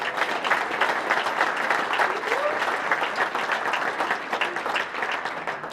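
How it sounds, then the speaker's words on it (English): An audience at a Martin Luther King Jr. Day breakfast claps its hands in steady, dense applause that fills the room evenly from start to finish, with no voices rising above it. "Let's give them a good hand clap."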